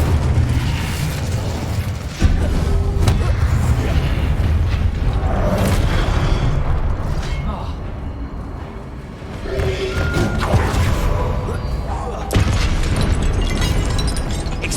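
Incendio fire spell blasts in the Hogwarts Legacy video game: a loud, dense roaring rumble that runs almost without pause, broken by sharp booming bursts near the start, middle and end, with no voices.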